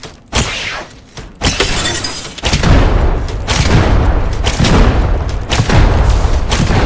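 Grenade explosion in the video game Apex Legends, a sharp shattering blast followed by a loud sustained rumble and crackle of debris that lasts several seconds, with no talk.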